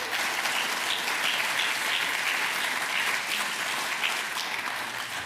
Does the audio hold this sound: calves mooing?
no